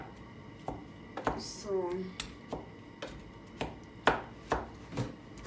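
Strawberries being mashed for jam with a wooden cooking stick, heard as repeated soft thuds and squelchy knocks at an irregular, roughly one-per-second pace, with a voice briefly speaking between strokes.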